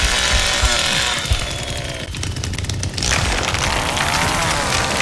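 A chainsaw revs up in the Texas Chainsaw Massacre video game, a loud, harsh, rattling engine roar that surges, dips briefly, then climbs again, filling the whole stretch without talk.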